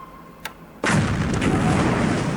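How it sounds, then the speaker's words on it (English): A naval mine detonation in the wargame War in the Pacific: Admiral's Edition, heard as a sudden loud explosive burst followed by a sustained, rumbling roar that fills the rest of the moment, with no talking. "But this sounds like a mine hit again."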